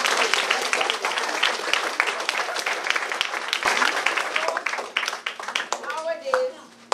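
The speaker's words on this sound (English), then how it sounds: "let us give the parents a lusty round of applause." Applause from parents and guests fills a school prize-giving event for a Standard 4 class, dense steady hand clapping throughout with some children's voices mixed in near the end.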